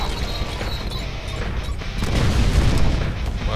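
A grenade blasts in the video game Deadpool, heard as a broad, rumbling boom that swells midway and lingers amid crashing game noise.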